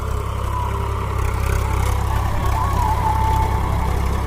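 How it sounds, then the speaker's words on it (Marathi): A Swaraj tractor engine runs steadily while cutting furrows in a field for maize sowing, a loud, continuous low rumble that holds even and close throughout. "आपण पाहू शकतात ट्रॅक्टर येत आहे, साऱ्या पाडत आहे."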